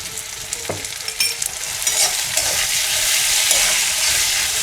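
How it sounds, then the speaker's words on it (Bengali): Chopped tomato and spices frying in a pan for a Bengali rohu fish curry in mustard paste, a steady close sizzle with occasional stirring scrapes, building slightly louder after the first couple of seconds. "এগুলো দিয়ে একটু ভালো করে কষে নেব।"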